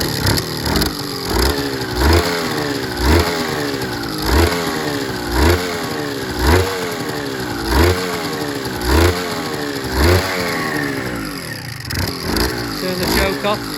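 A recommissioned Suzuki RGV250M SP1 motorcycle engine revs repeatedly in a steady rhythm of sharp two-stroke blips rising and falling close by, about a dozen times, with a raspy idle between them.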